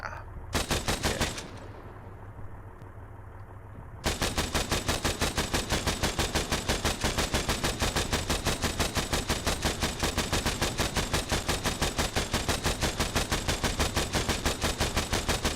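In Arma 3, a long stretch of rapid automatic fire is aimed at a T-72 tank. Opening short bursts give way to a brief lull, then a sustained, evenly rattling machine-gun stream that stays loud to the end.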